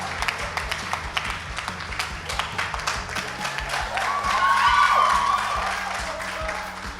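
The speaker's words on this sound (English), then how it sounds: "give them a round of applause as they come." Audience at the finale of a school debating contest claps and cheers steadily, a dense wash of applause with scattered whoops that swells toward the middle and continues throughout.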